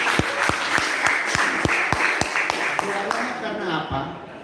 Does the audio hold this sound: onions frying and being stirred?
no